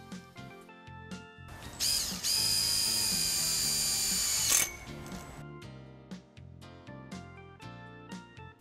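A cordless drill whirs briefly while driving two self-drilling screws to clamp a corner fitting onto an electric fence post, set between clicks, rattles and handling of metal parts nearby.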